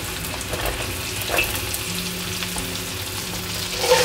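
Garlic, sliced ginger and chopped onion sauté in a hot pan for a chili-green-pepper beef stir-fry, giving a steady, close sizzle with occasional soft crackles and no voices.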